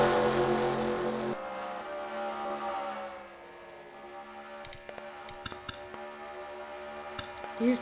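Race cars in a sim racing game run their final practice laps, engines droning and whining past in overlapping, shifting tones, loud at first and then thinning to a few quieter cars with scattered ticks and bumps.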